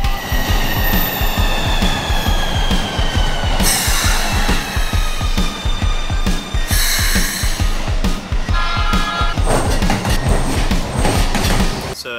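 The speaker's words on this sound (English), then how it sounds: "I think the train's here." A train rolls into a station platform in Yokohama, Japan, with a steady rumble and clatter, shrill metallic wheel squeals rising over it several times, loud and close.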